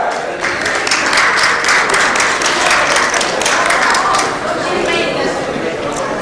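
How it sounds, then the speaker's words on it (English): An audience claps in a round of applause welcoming panelists at a maritime education panel discussion, a dense, steady patter that carries on loudly throughout with chatter mixed in. "Let's welcome them all with a big round of applause."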